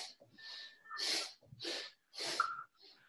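Forceful breaths during yoga breathing exercises, a series of sharp hissing exhales and inhales through the nose, close and fairly quiet, about five bursts in a row.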